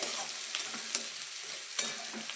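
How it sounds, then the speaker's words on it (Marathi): Green chillies and curry leaves crackle and sizzle in hot oil in a pan, a steady frying hiss broken by a few sharp stirring scrapes, close and fairly quiet, with no talking. "त्यामध्ये टाकू आपण हिरवी मिरची आणि थोडासा कढीपत्ता दोन्हीला पण मस्त असं कडकडू द्यायचं छान असं भाजायला"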